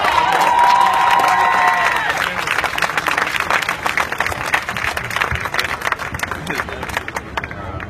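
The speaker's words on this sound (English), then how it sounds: "Give her one last round of applause." Crowd at a Black Lives Matter protest rally outside a city hall breaks into loud sustained applause and cheering, with dense clapping and shouts that hold steady before thinning slightly toward the end.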